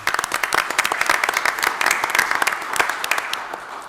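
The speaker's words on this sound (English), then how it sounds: "Let's give him a round of applause." An audience applauds at a city council regular meeting, with steady dense clapping from many hands throughout, moderately loud and close, without any voices over it.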